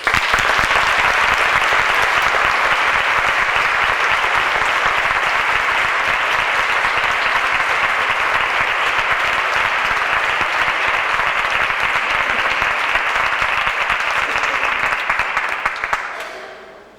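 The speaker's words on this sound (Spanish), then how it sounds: "quiero solicitarles inicialmente un fuerte aplauso, el primero de la noche, para el autor de esta obra" A large audience at a book launch presentation gives the author a long, dense, steady round of applause that holds evenly for about sixteen seconds before dying away.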